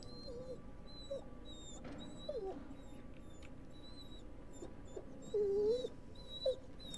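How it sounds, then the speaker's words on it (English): A dog whimpers in the horror video game The Devil In Me, giving faint, thin high whines at intervals against a low ambient background, with no talking. "Whimpering."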